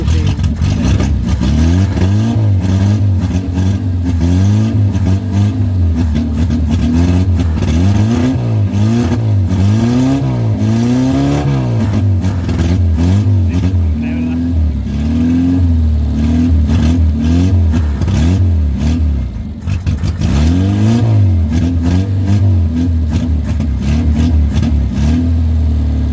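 Close, loud running of a 1965 Opel Kadett B Coupe engine, revived after 37 years off the road, rising and falling through repeated revs with a brief dip in the middle.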